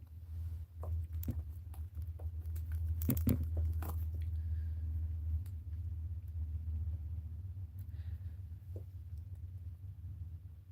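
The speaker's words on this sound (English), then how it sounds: "Thunder's really starting back up out there." Thunder rumbling outside, a low continuous rumble that swells loudest around the middle, with a few sharp crackles and scattered small knocks nearby, no talking.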